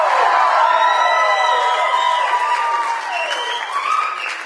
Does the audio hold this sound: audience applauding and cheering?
yes